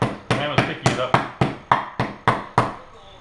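A meat hammer pounds schnitzel meat thin for Vienna schnitzel, about ten sharp, evenly spaced thuds in a steady rhythm, close and fairly loud.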